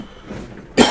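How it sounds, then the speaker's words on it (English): A single sharp cough bursts out near the end, loud and close, after a quiet stretch of faint room noise. "Already coughing?"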